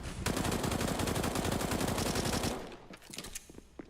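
Rapid submachine gun bursts from a CS:GO match at a B bomb site, dense continuous rattling for about two and a half seconds, then scattered shots and game effects as the firing breaks off.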